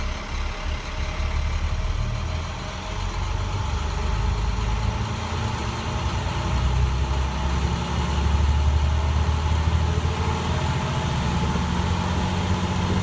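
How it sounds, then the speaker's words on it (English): A bus engine idles to warm up on a cold day, a steady low rumble that holds even and close throughout with no talk. "I'm gonna start the bus back up and warm it up."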